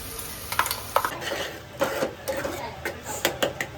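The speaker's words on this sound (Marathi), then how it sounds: "आपण थोडा चिकन मसाला ह्याच्यात टाकूया आणि मसाले थोडेसे तेलामध्ये भरून घेऊया" Chicken masala spices frying in oil in a home kitchen, a soft steady sizzle with scattered stirring clinks and scrapes of a utensil against the pan.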